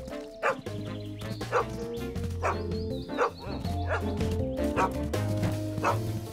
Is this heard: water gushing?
no